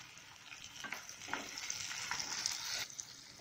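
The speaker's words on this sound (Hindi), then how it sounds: "इसको भी 1 मिनट तक के लिए भून लेंगे।" Onion-tomato masala for dum aloo frying in a pan, a steady close sizzle with faint stirring scrapes running throughout.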